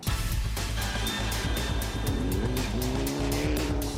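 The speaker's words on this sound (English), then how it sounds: "ikram Matthias has the lead going into day 2 with the 2 MRF cars chasing fast behind him" Rally cars racing at speed in a 2010 Indian National Rally Championship round, engines roaring steadily with tires squealing and skidding, loud and continuous without talk.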